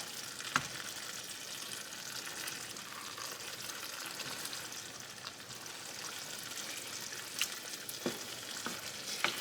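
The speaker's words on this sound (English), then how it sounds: "I'm going to continue stirring it" A pot of chili with beans cooks with a constant bubbling sizzle, while a utensil stirs through it and gives an occasional faint scrape or knock, steady and fairly quiet.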